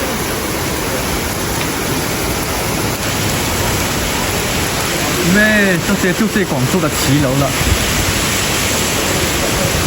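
Heavy rain pours over Guangzhou's arcaded qilou street buildings as a loud, steady wash of hiss, with a person speaking over it for a few seconds midway.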